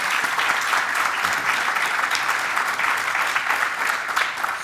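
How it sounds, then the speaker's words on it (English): An audience at a liberty event claps in steady, dense applause that holds at an even level throughout, with no talking over it. "let's get a round of applause for this very, very exciting and ambitious initiative"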